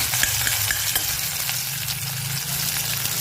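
Paneer fries in hot oil with a dense, steady sizzle and a low bubbling rumble underneath, close and continuous with no voices.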